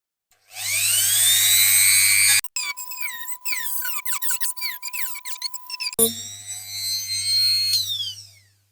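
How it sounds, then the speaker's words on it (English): A cutting tool bites into a diecast Dinky Toys 414 Dodge Tipper axle held in a vise, giving a loud high shrill whine that breaks into squealing, chattering grinding midway, then steadies into a whine again before stopping. "So I'll get a cutting tool and I'll cut just where that black mark is."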